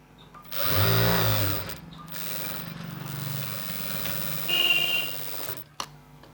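A sewing machine stitches a fold on a blouse piece during tailoring, a steady mid-loud whirring run of several seconds with a brief pause and a lighter burst near the end.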